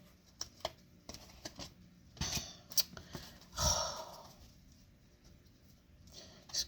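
Tarot cards being shuffled and drawn, heard as scattered soft close taps, flicks and brushing rustles with quiet gaps between them.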